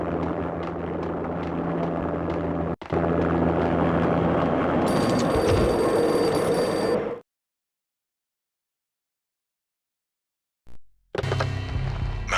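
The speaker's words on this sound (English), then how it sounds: "An armed helicopter just landed on the manor grounds." An armed helicopter lands on the manor grounds in the video game Max Payne: a loud, steady rotor and engine roar that swells, cuts to dead silence, then returns abruptly.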